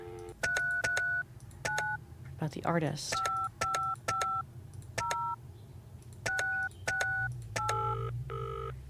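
Telephone keypad tones beep in a video game as a number is dialed, a series of short paired DTMF tones in uneven groups, with a brief voice and a low background hum.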